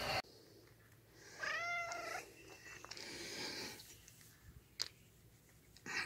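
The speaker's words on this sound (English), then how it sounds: "Here comes the cat." A house cat lets out a short, rising meow close by, with a soft, steady purr rumbling underneath in an otherwise quiet room.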